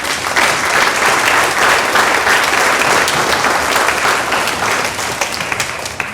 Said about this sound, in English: Round of applause for those guys.